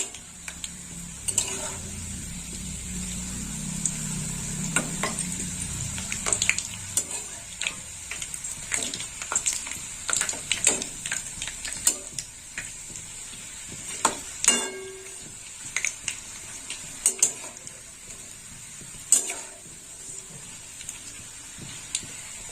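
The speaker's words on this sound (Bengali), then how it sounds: "বাকি পাঁপড়গুলো আমি ভেজে নেব" Papad frying in a pan of oil for a potato-and-papad curry: a soft, steady sizzle runs throughout, broken by scattered clicks and scraping clatter from the pan, with no talking.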